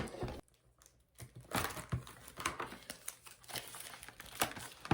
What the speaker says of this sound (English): So when we take this out, it's going to be covered in almost like a plastic film